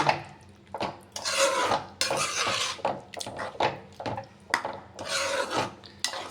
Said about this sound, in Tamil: இப்போ வந்து கரண்டியை விட்டு நல்லா கிண்டிக்கலாம்